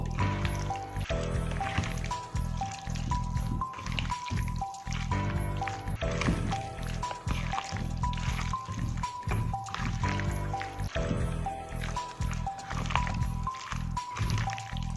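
Wet squishing and squelching as chicken is worked through a thick masala marinade, with soft liquid sounds over steady background music.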